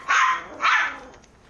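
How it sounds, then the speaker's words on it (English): A dog barks twice in quick succession, loud and fairly close, each bark full and rough with a slight growl, followed by a faint trailing yelp. "tell your dog to shut up"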